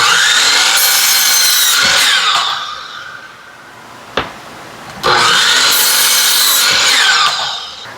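Wood boards are cut to length with a saw in two loud bursts of steady cutting, with a sharp knock between them and a quieter pause in the middle.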